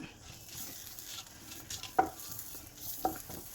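Shallots, five dried red chillies and three garlic cloves fry in a pan, a faint, close sizzle with soft stirring scrapes and two sharper clinks.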